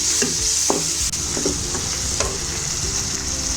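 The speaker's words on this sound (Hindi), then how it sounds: "अब इसको मैंने अच्छी तरह भून लेना है।" Bitter gourd and lentils frying in a pan for a Pakistani karela daal, a loud steady sizzle with repeated scraping stirs and spoon taps against the pan, close up and without talking.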